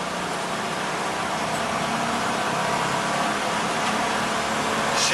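A van accelerating hard on the Virginia International Raceway circuit, its engine a steady broadband roar that holds level and builds slightly toward the end, heard from inside with no talk.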